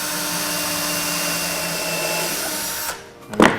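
A power drill bores a hole into a wooden planter board, with a steady close whine for about three seconds, then it stops, followed by a brief clatter.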